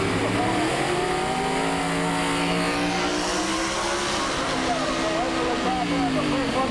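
Ford and Chevrolet-powered Monza modified drag racing cars, one using a 317 cubic inch Chevy engine, launching side by side at the 1985 IHRA Summer Nationals in Edgewater; loud continuous engine roar with rising revs sustained throughout.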